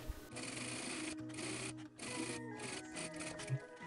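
A sewing machine top stitching denim shorts runs in quick mechanical bursts with short pauses, a close, steady whirring clatter at moderate volume.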